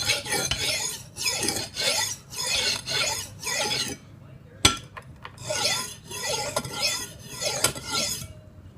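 Kitchen knife blade being rubbed flat on a sharpening surface, a steady rasping scrape in repeated strokes, near and fairly loud, with a brief pause midway before the strokes resume.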